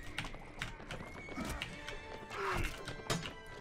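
Horse whinnies and clip-clopping hooves amid the clatter of a mounted melee in the medieval combat game Mount & Blade: Warband, with neighs rising loudly near the middle and end over thuds of battle.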